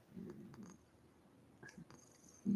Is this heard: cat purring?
yes